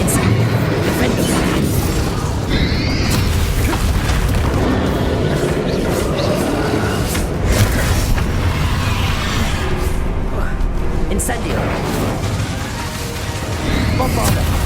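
Repeated Confringo and Bombarda spell blasts thump and crash through Hogwarts Legacy combat on PS5, dense and loud booms layered with whooshes and debris, with a voice shouting over the fight.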